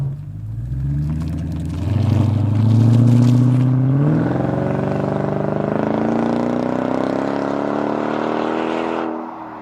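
A Mercedes CLS55 AMG on its stock exhaust revs and pulls hard, its engine note rising steadily and staying loud and close for several seconds before cutting off.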